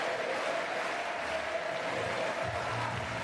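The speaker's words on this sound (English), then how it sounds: "Crowd getting really excited on court Suzanne Lenglen" A tennis crowd on court Suzanne Lenglen at a wheelchair tennis match, applauding and cheering in a dense, steady wash of clapping that fills the space, with no break throughout.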